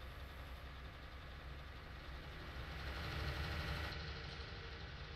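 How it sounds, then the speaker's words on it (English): A John Deere 8960 tractor idles in Farming Simulator 19, a low steady diesel rumble that swells slightly partway through, heard alone at a quiet level. "Good old tractor."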